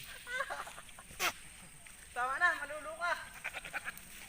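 Boer and Anglo-Nubian goats bleat with wavering, nasal cries in the middle, mixed with people talking and other animal noises nearby.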